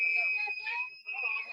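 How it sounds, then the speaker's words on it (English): Shrill, sustained whistles from a crowd at the Oklahoma City state capitol, drowning out a speaker, steady and piercing, with voices murmuring underneath. "they're whistling to drown him out"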